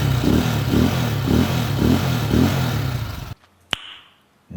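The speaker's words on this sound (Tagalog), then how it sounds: "So ngayon ito, rev na natin." A freshly tuned motorcycle engine revs in five rhythmic, evenly spaced bursts, close and loud. It then cuts to near silence, broken by a single sharp click.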